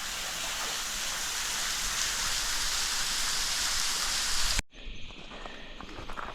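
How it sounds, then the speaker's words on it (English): A mountain waterfall in the Budawangs wilderness, a loud steady broadband roar of falling water heard close up, which drops abruptly near the end to a quieter rushing stream background. "here's that waterfall"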